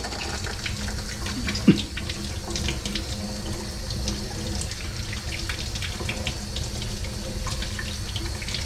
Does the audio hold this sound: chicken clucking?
no